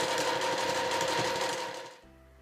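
Sewing machine stitching fabric for a small cloth item such as a tissue case, a fast even motor whir with rapid needle clatter for two seconds, then stopping abruptly.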